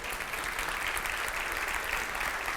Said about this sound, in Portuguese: Vamos aplaudir a palavra de Deus?